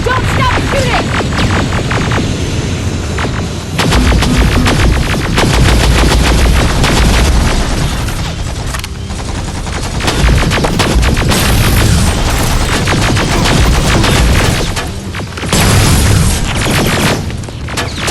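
Sustained rapid gunfire from rifles and machine guns in Terminator: Resistance, loud and dense with booming impacts and brief lulls, continuing throughout without speech.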